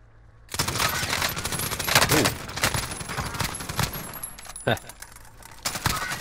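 Sustained rapid gunfire from a Call of Duty Warzone match, loud dense automatic bursts with sharp individual shots and clattering casings, continuous for several seconds.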